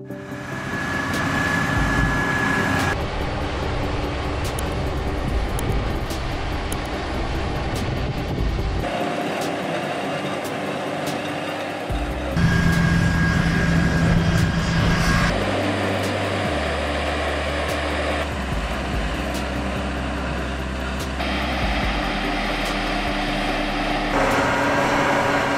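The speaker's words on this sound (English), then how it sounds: "Let's see how modern machines work with vivid sounds right now." Modern farm machinery harvesting red beets rumbles and whines continuously, with heavy engine drone and mechanical noise that shifts in pitch as the equipment works in the field.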